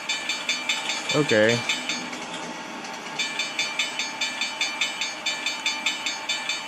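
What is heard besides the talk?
tram passing a grade crossing in the Trainz video game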